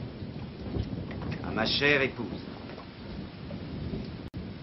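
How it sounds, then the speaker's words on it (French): Steady rain hisses throughout, with a low rumble like distant thunder beneath and a brief spoken phrase in the middle. "La pluie ne cesse de tomber."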